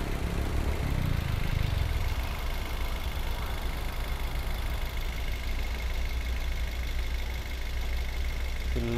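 A Toyota Veloz car engine idles with a steady, continuous low hum, with a brief lower rumble near the start and no voices.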